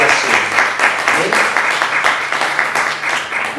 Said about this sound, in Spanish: Dale un fuerte aplauso al Rey si lo quieres con todo el corazón